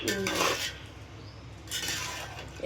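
A metal biryani cooking pot being handled, giving two short bursts of clattering and scraping, near and moderately loud, separated by a quieter pause.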